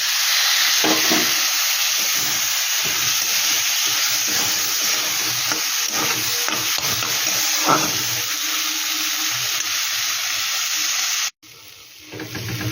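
Spice paste with green chillies frying in a pan for egg pulao hisses loudly after a splash of water, a dense continuous sizzle with scattered pops, cutting off abruptly near the end into a quieter crackle.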